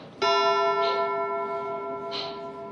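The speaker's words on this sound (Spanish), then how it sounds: "Hemos construido el sonido de una campana de manera totalmente artificial a partir de sonidos más simples." An artificial bell tone built by summing 25 simple frequencies strikes once with a sharp onset, then rings on in a bright, steady chord that slowly fades, with a faint shimmer returning near the end.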